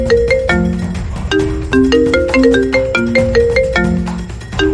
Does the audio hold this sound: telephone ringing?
yes